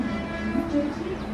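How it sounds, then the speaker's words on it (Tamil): Mumbai local train at Mumbai Central station, a steady close rumble of the carriage with a faint horn-like tone, running continuously throughout. "இப்போ இந்த ட்ரெயின் வந்துட்டு இருக்குது"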